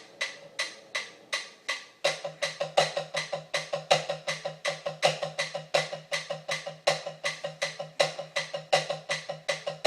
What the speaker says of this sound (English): That will be putting the paradiddle at the beginning, then the paradiddle diddle, then another paradiddle diddle. So as eighth notes